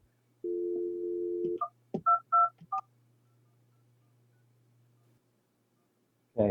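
A PBX desk phone system places a call: a steady dial tone, then a quick run of DTMF keypad tones, a lingering low hum and a short ringback burst at the end, all clear and close.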